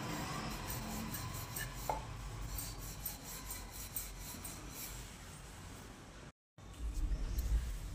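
A rolling pin works methi thepla dough on a board, making a quiet, steady rubbing and rasping close by, with a brief silence near the end before the rolling starts again.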